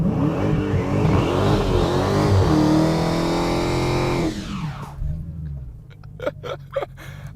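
A Dodge Challenger SRT Hellcat revs hard on line lock to warm its tires, a loud sustained engine roar that climbs and holds for about four seconds, then drops to a rumbling idle punctuated by a few sharp throttle blips.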